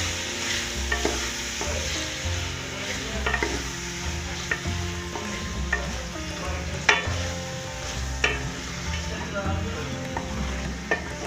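Mungra with potato and pea vegetable being stirred into fenugreek in a pan, a steady soft sizzle under scraping and clinking of a spoon, close and moderately loud throughout.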